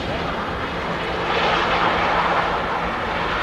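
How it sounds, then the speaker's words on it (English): A TUI Boeing Dreamliner jet taxiing at Manchester Airport, a steady broad engine roar and whine that holds at an even, fairly loud level throughout. "The TUI Dreamliner now on the taxi."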